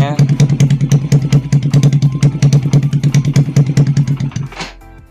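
A Honda Revo Fit motorcycle with an aftermarket racing exhaust revs hard in rapid, rhythmic bursts, loud and close, with a rough, throaty exhaust throughout before cutting off near the end.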